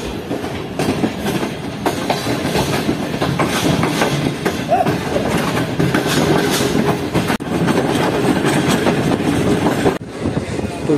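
Karachi Express train rolling along the track at speed after leaving Hyderabad at night, a steady loud rumble with rhythmic clickety-clack of wheels over rail joints, continuous throughout.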